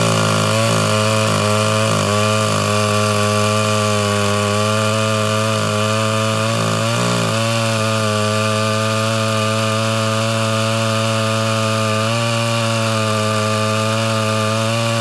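A ported Homelite Super XL-Auto chainsaw cuts through big wood, its engine screaming loud and close at a steady high pitch with a brief dip around the middle, running alone with no talk.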